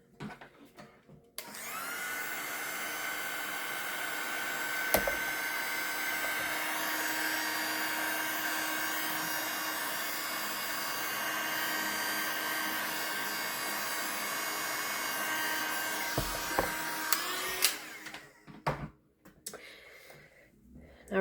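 Hair dryer blowing on a small watercolor night-sky bookmark, a loud steady whir running nearly twenty seconds, switched on and off with clicks at each end.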